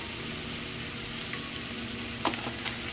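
Ginger and garlic sizzle steadily in hot oil in a pan, a close, continuous frying crackle with a couple of brief stirring clicks near the end.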